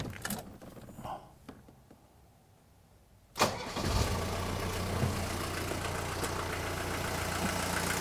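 Near-silence, then the diesel engine of a W123 Mercedes 240D cranks briefly and fires abruptly, settling into a steady, close idle.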